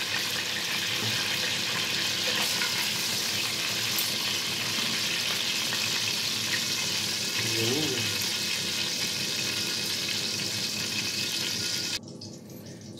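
Eggplant frying in hot oil for papoutsakia, a steady close hiss and sizzle that runs evenly for most of the moment before cutting off abruptly near the end.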